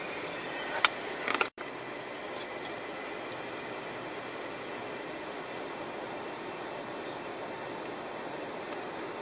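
Steady broadband hiss from an HVAC unit with a suspected refrigerant leak, continuous and fairly loud, broken by a brief click and momentary dropout early on, with no talking.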